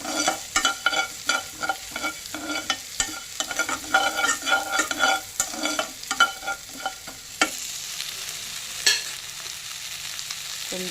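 Cumin and fenugreek seeds fry in a pan over low heat with close, steady sizzling, while a spoon stirs and scrapes repeatedly through the first seven seconds before the sizzle settles into a softer, even hiss.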